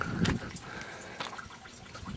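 Water trickles and drips through a bell siphon in an aquaponics setup in South Kona, a soft, close, uneven dribbling with a few brighter splashy bursts and no voices.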